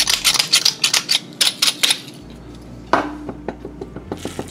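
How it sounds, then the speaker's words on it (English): A pepper grinder turns over a pot of rice pilaf, giving a quick run of close, crisp rhythmic clicks that pauses, then a few lighter clicks and a brief rattle. "Add in some fresh ground pepper."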